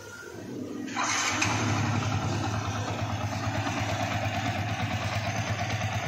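A rebuilt Yamaha Vixion motorcycle engine starts with a burst and settles into a steady, close idle, a continuous mid-pitched rumble that stays loud and even for several seconds.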